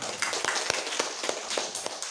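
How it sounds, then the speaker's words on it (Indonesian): Applause from an audience of about thirty teachers at a school dissemination event, a dense patter of claps at moderate distance, steady for a couple of seconds. "Tepuk tangan dulu untuk kita semua."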